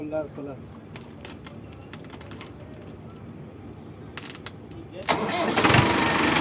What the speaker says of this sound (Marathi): बघू शकता तुम्ही ट्रॅक्टर चालू झालंय.